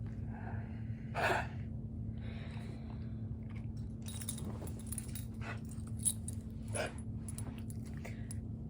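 A pet dog makes choking-like snorting and gasping noises, in a few short rough bursts over a steady low indoor hum, with small clinks and rustles in between and no talking.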